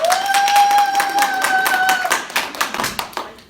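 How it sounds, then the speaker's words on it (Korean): Seminar attendees clap for themselves: a brisk rhythmic burst of close, loud hand claps over a lingering sustained tone, thinning out and fading after about three seconds. "자기 자신한테 박수 한번 쳐주세요"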